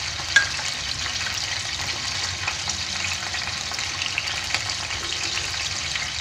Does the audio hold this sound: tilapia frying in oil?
yes